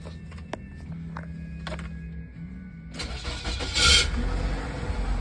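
A Nissan X-Trail engine cranks with a few short starter clicks and whirs, then catches and settles into a steady idle, close and moderately loud.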